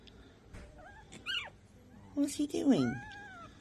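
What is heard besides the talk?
puppy barking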